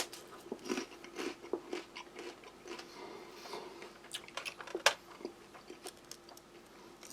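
Someone bites and chews a Polish army ration cracker spread with plum jam. Quiet, close crunches and clicks come in irregular bursts over a faint background hum.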